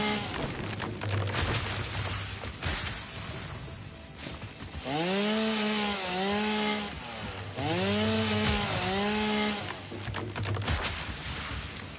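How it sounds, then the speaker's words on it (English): Chainsaw in the video game Satisfactory, a loud continuous buzzing motor that revs up and down in repeated rising and falling sweeps, close and dominant. "Flying chainsaw!"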